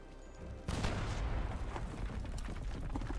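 An artillery barrage on a capital in the game Anbennar: a sudden onset of dense, continuous booming and crackling gunfire, loud and sustained to the end.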